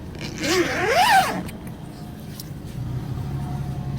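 The single zipper on a vacuum cleaner's bag compartment gets one quick zip pull lasting about a second, followed by a low background hum.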